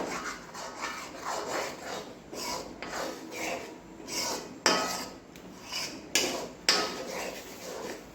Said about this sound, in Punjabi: ਜਿਵੇਂ ਜਿਵੇਂ ਅਸੀਂ ਇਹਨੂੰ ਹਿਲਾਈ ਜਾਵਾਂਗੇ ਔਰ ਜਿਵੇਂ ਜਿਵੇਂ ਇਹ ਠੰਡਾ ਹੋਈ ਜਾਊਗਾ